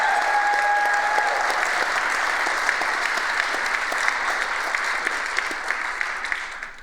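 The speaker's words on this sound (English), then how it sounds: "Can we give everyone a round of applause?" An audience at an entrepreneurs' summit showcase gives steady, full applause, a dense wash of clapping holding evenly for several seconds before tapering off at the close.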